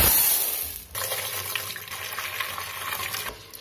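Sago pearls being washed in a bowl produce a steady splashing and sloshing of water, fairly close and continuous, with a brief dip before the swishing picks up again.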